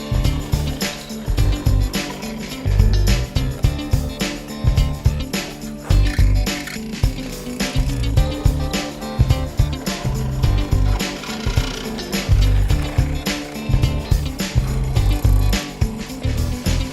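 Mortises are cut into a wooden studio stool blank using a jig, producing loud, close, irregular bursts of cutting and rattling mechanical noise that continue throughout without talk.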